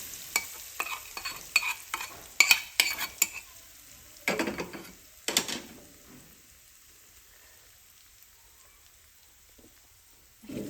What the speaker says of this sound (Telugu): స్టవ్ ఆఫ్ చేసుకొని ఈ పోపుని కలిపి పెట్టుకున్న పచ్చట్లో వేసుకోవాలండి